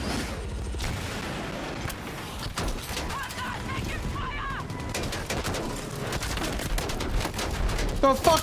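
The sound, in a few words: God Cannon weapon firing in video game Battlefield 6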